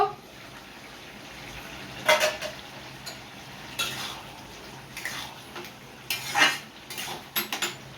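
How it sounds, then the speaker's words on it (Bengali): Metal clinks and scrapes as a lid is lifted off a pot of bottle gourd cooking for a fish head dish, a few sharp close clanks over a low steady kitchen background, no talk. "ঢাকাটা খুলে দেখব।"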